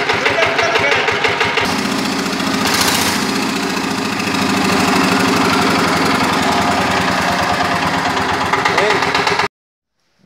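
Yanmar diesel generator set engine cranking with rapid chugging pulses and then running hard and loud at close range with a steady knocking clatter before cutting off abruptly near the end.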